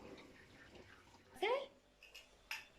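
A household dishwasher runs in a kitchen, giving a faint, steady wash of sloshing water. A short vocal sound rises briefly over it.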